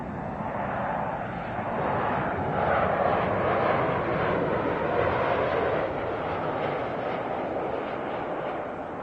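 A heavy jet airliner takes off at LAX, its engines producing a loud, sustained roar that swells slightly and then holds steady, close and dominant throughout.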